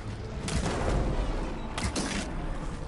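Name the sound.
fireworks explosions in video game Horizon Forbidden West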